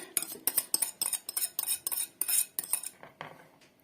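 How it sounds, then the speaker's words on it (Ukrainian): A spoon scrapes and clinks rapidly against a bowl while stirring microwave-melted margarine, in a quick, uneven rhythm, close up, with no talking. "Розмішую."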